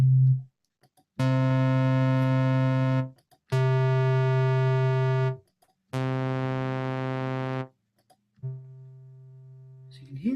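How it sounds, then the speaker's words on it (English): Synthesizer oscillators playing a sine wave and other waveforms: three loud, sustained, bright steady tones of about two seconds each with short gaps, then a fainter, purer tone, with no talking. "Let's just get a sine wave so you can hear that."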